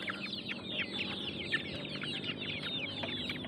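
A flock of young banded game fowl, about two months old on a game farm, clucks and chirps continuously like chickens, many overlapping calls close by with a low background hum.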